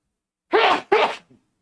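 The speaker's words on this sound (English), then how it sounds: "I finally sneezed." A person sneezes in two quick, loud bursts close by, followed by a faint sniff, during a classroom lecture.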